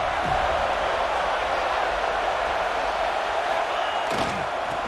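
A stadium crowd roars continuously in the College Football 26 video game during an Alabama versus Florida State matchup, a loud sustained wash of massed voices with a brief thump near the end.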